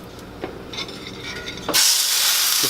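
A rack of pork meets a hot cast iron skillet with butter. Faint clinks give way to a sudden loud, steady hissing sizzle that fills the last second.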